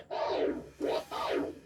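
DJ performing a one-click flare scratch on a turntable record: three quick, close scratchy swipes, forward and back, with the sound chopped by the crossfader. It is played alone.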